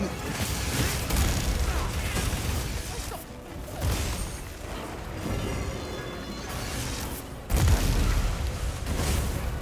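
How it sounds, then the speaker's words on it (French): Explosions in the video game Monster Hunter Wilds, a run of heavy booms and crashes that rise and fall in loud bursts over several seconds, with a sharp fresh blast near the end. "il faut vraiment que je fasse gaffe parce que les explosions elles sont là."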